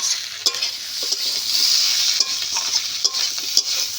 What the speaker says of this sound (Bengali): বেগুন আলু মশলার সঙ্গে বেশ ভালো করে কষে নিয়েছি, কষা হয়ে গেছে।